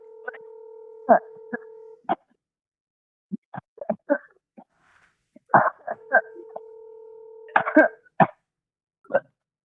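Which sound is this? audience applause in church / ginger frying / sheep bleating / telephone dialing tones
telephone dialing tones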